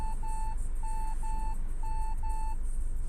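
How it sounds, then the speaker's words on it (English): A parked car's proximity sensor inside the vehicle near a cemetery, giving six short, evenly spaced electronic beeps in paired bursts over a low engine-idle hum, with no talking. "it's gonna beep every time a car passes me"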